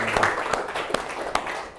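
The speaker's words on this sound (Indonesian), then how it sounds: "tepuk tangan buat Juan dan Ramadan" Applause for two students, Juan and Ramadan, in a classroom: a short burst of scattered clapping from a small group, with sharp individual claps standing out over a roomy background for under two seconds.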